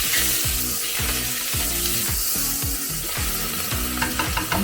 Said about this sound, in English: The pan is nice and hot. Add in the rest of the onion.